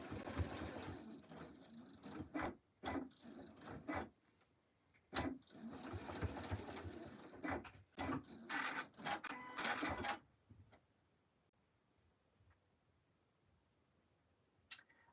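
A sewing machine restitches a cut corner on an IKEA rug covered in buttons, running in several short loud bursts with brief pauses between them before falling quiet near the end.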